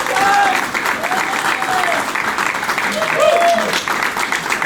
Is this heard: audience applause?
yes